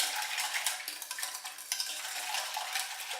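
A spoon stirs a sweetened starch mixture in a nonstick pot over medium heat, making a close, continuous scraping and swishing with quick repeated strokes against the pot.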